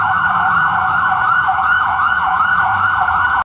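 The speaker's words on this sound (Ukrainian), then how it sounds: "Пожежна машина вже готова виїжджати." A cartoon fire engine siren wails loudly and continuously, its rising and falling tone sweeping steadily without a break until it cuts off abruptly at the end, with a low vehicle rumble underneath.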